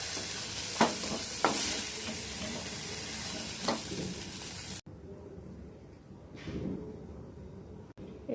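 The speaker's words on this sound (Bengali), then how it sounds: "এবার এই তেলে বেগুনগুলোকে ভেজে নেব।" Eggplant pieces fry in hot oil in a home kitchen, a constant soft sizzle broken by a few sharp clacks of stirring, and the crackle quietens partway through.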